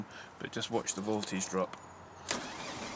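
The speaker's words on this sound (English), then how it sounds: "So what I'm going to do is just to start the engine." A Ford Focus diesel engine cranks and starts near the end, a broad noisy surge after someone talks over the running car.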